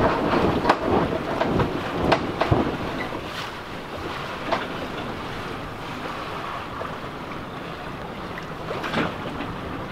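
A sailboat tacks under sail along the coast of Mljet, Croatia, with steady wind rush, water washing against the hull and scattered creaks and knocks from the rigging.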